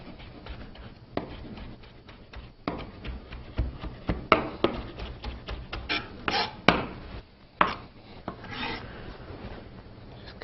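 Fresh cilantro is roughly chopped with a knife on a board, a run of quick scraping, tapping strokes with irregular bursts of rocking cuts, close and clear, with no talking.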